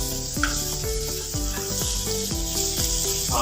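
Elephant yam slices sizzle steadily on a hot tawa, a continuous close frying hiss with repeated soft scraping strokes as the pieces are turned over, against a faint tonal hum in the background.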